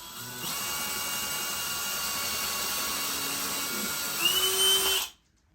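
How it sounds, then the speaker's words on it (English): A power drill whines steadily, drilling a pilot hole into wood for about five seconds, its pitch shifting slightly near the end before it cuts off into silence. "I'm going to pre-drill the hole so it actually goes in a lot easier"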